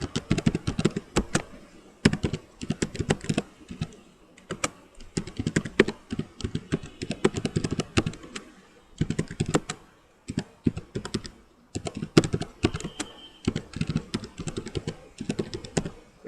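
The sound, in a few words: typing answers on a computer keyboard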